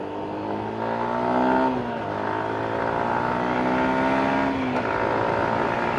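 A 2019 Yamaha Sniper motorcycle pulls hard on a highway, its engine note rising, dropping at a gear shift and climbing again, loud and close with wind noise.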